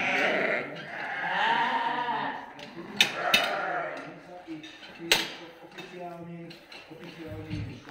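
Dorper sheep on a breeding farm bleat repeatedly and close by, wavering calls overlapping with people talking, along with a few sharp clattering knocks.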